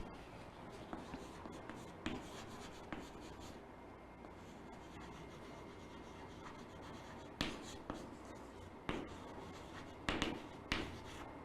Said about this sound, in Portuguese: vou escrever aqui